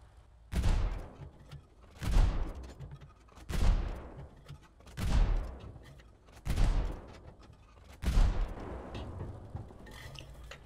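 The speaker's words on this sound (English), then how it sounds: "Okay, so I fired 6 rounds while the 7th is in the breech" A tank cannon in War Thunder fires six heavy rounds, one roughly every second and a half, each a loud, close boom that rolls off into a decaying rumble before the next shot.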